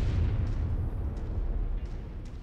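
A destroyed target blows up in the MechWarrior 5 video game, a deep continuous rumbling boom that stays loud across the whole stretch with no voices over it.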